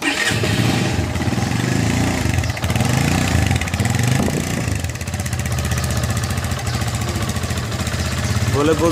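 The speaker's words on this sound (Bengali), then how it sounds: "আসুন আমরা ইঞ্জিনের সাউন্ডটা শুনি।" A CFMoto 150NK motorcycle engine runs steadily and loudly up close, with a continuous low rumble throughout.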